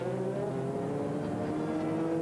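Race car from the 2001 European Le Mans Series round at Jarama, its engine holding a steady droning note as it rolls into the pits, loud and continuous with no talk.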